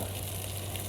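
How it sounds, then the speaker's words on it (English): Chicken fries in a pan with a dense, steady sizzle and crackle, heard close up and continuous through the short moment with no talking. "It's in there just sizzling"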